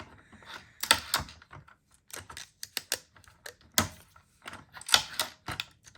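A sublimation tape dispenser cuts tape into set-size pieces with a series of sharp mechanical pops and clicks, close and fairly quiet, irregularly spaced with brief rattling between them.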